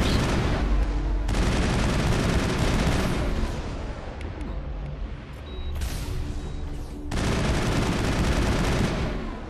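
Gunfire and rocket blasts in the Mass Effect video game on Virmire, dense continuous bursts of shots and booms that briefly thin out twice before resuming loud, with no talking.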